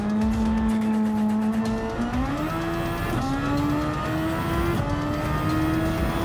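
A Super Formula open-wheel race car in Gran Turismo 7 roars loudly and steadily, its engine pitch holding high, dipping at a gear change and then climbing again as it accelerates, with no voices over it.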